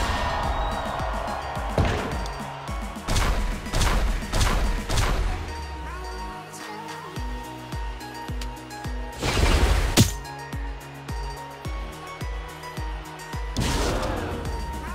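Heavy thuds and crashing body-slam impacts from a Viking wrestler's Exploder Suplex in a combat video game, several loud close hits spaced a few seconds apart over game music.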